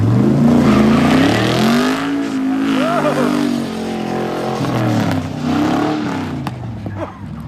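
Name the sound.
1963 Pontiac Grand Prix revving, front tire spinning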